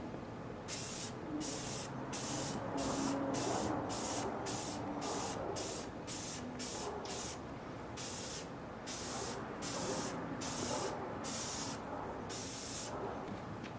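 A coat of spray paint going onto a GS550 cafe racer motorcycle part after dent filler, heard as a long series of short, evenly spaced hissing bursts, close and steady, with no voices.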